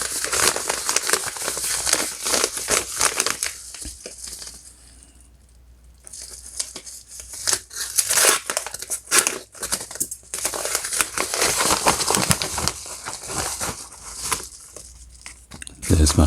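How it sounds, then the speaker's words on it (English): A Samsung SmartTag package being opened up close, with loud crinkling, tearing and rustling of packaging in uneven bursts and a short quieter pause midway, while a person talks now and then. "let's go ahead and open this up"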